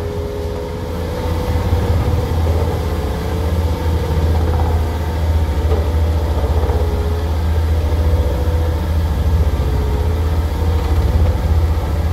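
A Dynapac CA30 two-drive vibratory road roller, a 12-tonne machine, runs its engine with a steady, loud, low drone and idling hum that stays constant throughout, with no talk.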